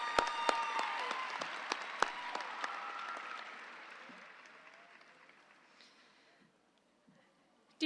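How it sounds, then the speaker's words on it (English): A graduation audience at a high school ceremony breaks into applause, loud at first with sharp individual claps, then gradually fading away to near silence. "give her one round of applause"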